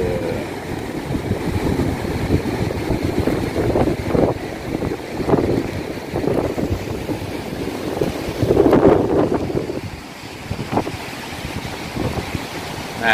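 Beach ambience at Pantai Selili in Gunung Kidul, heard from on top of a coral reef. Steady wind roars into the microphone and surf washes in and out in repeated surges, with no voices.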